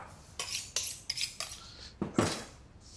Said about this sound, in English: you put the knife here, and you cut the skin